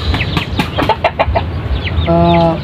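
Chinese chickens that were just moved down to the ground cluck close by in short, busy bursts. One drawn-out, tonal call near the end stands out.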